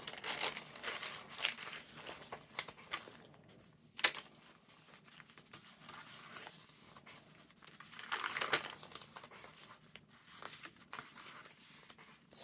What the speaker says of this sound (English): Lovely crunchy paper.